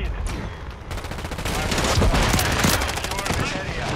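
Rapid, dense gunfire from dual pistols in Call of Duty, loud and continuous bursts of overlapping shots close up, with a voice talking beneath the barrage.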